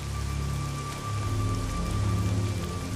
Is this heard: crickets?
no